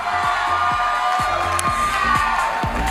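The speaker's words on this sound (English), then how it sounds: "A round of applause for Miss Anambra." A crowd at a national beauty pageant cheers and applauds for a contestant, a steady wash of clapping and whoops with occasional sharp shouts under a dense, roomy roar.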